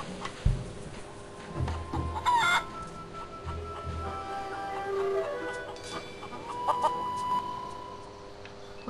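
A chicken clucks and crows in the pirate adventure game The Curse of Monkey Island, with several short calls over a soft game soundscape and no talk.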